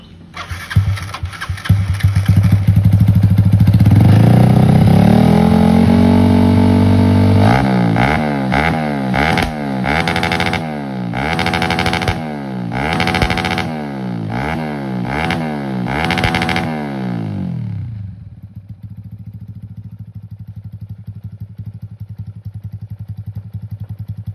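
A 1997 Yamaha Crypton fuel-injected motorcycle with a long exhaust starts and revs hard, a string of sharp throttle blips that rise and fall, then settles into a steady, lower idle.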